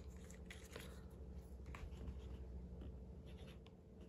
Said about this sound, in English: You can definitely hear the feedback on that paper.